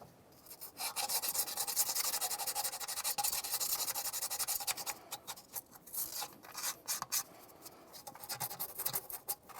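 Sandpaper scrubs steadily over the metal starter mounting area on a 2004-2015 Nissan Titan, a close, continuous rasping rub that thins into shorter strokes toward the end.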